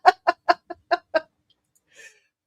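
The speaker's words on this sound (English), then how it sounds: "it sounded like a chicken" A chicken clucking six times in a quick, evenly spaced burst, close and clear, followed by a faint trailing cluck against a quiet background.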